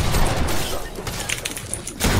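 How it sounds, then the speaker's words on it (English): Rapid gunfire from an enemy player in a first-person shooter video game, dense and loud bursts running throughout with a heavier burst near the end, mixed with game noise and possible voice underneath. "look at this, he's shooting me. See how fast he shoots?"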